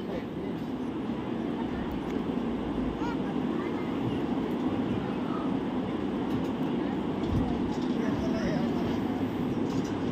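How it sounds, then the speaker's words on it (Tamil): The Vaigai Express pulls out of Chengalpattu station, a continuous low rumble and clatter heard from on board, steady and fairly loud throughout. "ஸோ நம்ம ட்ரெயின் இப்போ செங்கல்பட்டுலேருந்து கிளம்பிருச்சு."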